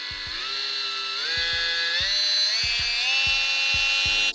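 Carbon Collective Nano polisher running at higher speed, a continuous high whine with pitch steps as the speed rises, close and loud, with small rhythmic clicks underneath.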